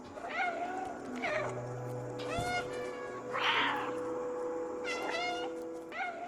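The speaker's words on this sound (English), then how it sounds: "the game even has a meow button" A cat meows repeatedly in a cat video game, several distinct rising and falling meows spaced over a few seconds, clear and close with a faint steady background tone.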